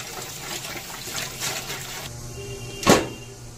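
Mung and masoor lentils are rinsed by hand under a running kitchen tap, with a steady close rush of water, a shift in tone partway and one brief splash or knock near the end.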